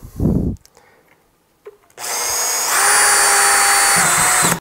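A power screwdriver drives screws through a metal anchor plate into timber framing, first a short burst, then after a pause a loud sustained whirring run that rises in pitch partway through.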